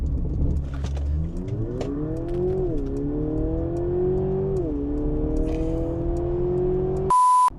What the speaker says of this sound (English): but I'll try to launch control this car.